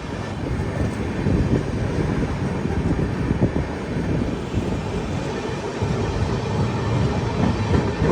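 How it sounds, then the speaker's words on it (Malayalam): The Ala Hazrat Express rolls into Bhuj railway station in Gujarat with a steady, rumbling wheel-and-carriage roar and soft rhythmic clatter, heard from on board over wind buffeting, with no talking. "ട്രെയിൻ ഇതാ ഗുജറാത്തിലെ ഭുജ് റെയിൽവേ സ്റ്റേഷനിലേക്ക് എത്തിയിരിക്കുകയാണ്"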